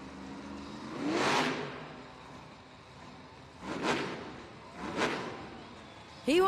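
Toro Loco monster truck engine revving during a two-wheel skills run at a Monster Jam arena event in Baltimore, heard as three surging bursts of rising engine roar over steady arena noise.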